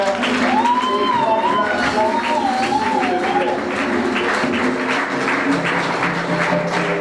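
Church congregation at a French-language service clapping and cheering to acclaim the Lord, a steady dense wash of applause and voices throughout, with a tonal sliding melody line rising above the crowd noise.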